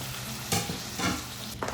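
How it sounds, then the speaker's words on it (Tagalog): Chicken breast chunks sizzle in a pan with garlic and onion for Filipino chicken adobo, a steady fry broken by three bursts of stirring. "Add in your chicken breast that was cut into big chunks or strips."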